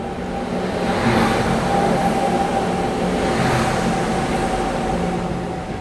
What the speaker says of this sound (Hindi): सामने से कोई तो ट्रेन आ रही है, देखते हैं, मे बी गुड्स ट्रेन है शायद से।